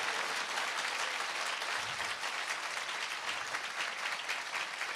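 A church congregation claps in thanks to the Lord, a steady, dense wash of applause that carries evenly through the moment.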